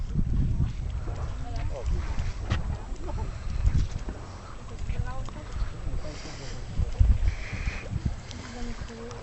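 A ferry moves across the water on the way to Mielnik, giving a low continuous rumble under people talking nearby, with faint bird calls in the background.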